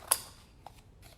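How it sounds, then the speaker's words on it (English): Scissors cut through cardboard for a pom-pom maker: one sharp close snip, then a couple of fainter cuts, with no talking. "So we're gonna go ahead and cut that cardboard like so."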